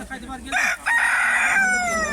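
A rooster crows loudly and close by at a village bazaar, one long drawn-out call with a trailing end.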